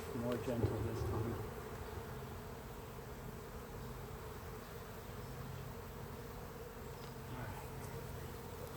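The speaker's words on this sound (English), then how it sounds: "have shook those bees into the box" Honeybees buzz steadily around a hive in a continuous low drone that stays fairly faint and close throughout, with a short louder flurry near the start.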